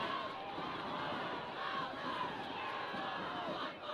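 A high school football crowd at a Class D final roars and cheers in a continuous, dense wash of shouting voices, steady and fairly far off throughout.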